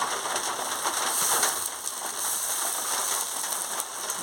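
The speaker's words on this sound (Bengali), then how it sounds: "দিয়ে ভালো করে ভেজে নিচ্ছি বাটা রসুন বাটা" Garlic paste fries in a pan for a fish curry with potato and pointed gourd, a dense, even crackling sizzle heard close up without any speech.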